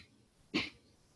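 A single short, muffled cough with the mouth closed, brief and soft against a quiet background.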